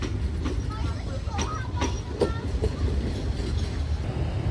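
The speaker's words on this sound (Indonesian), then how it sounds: "Dari arah Depot teman-teman terlihat lokomotif CC206 ini" A CC206 diesel locomotive rolls out from the depot with a steady rumble and intermittent wheel clicks over rail joints, heard at a moderate distance.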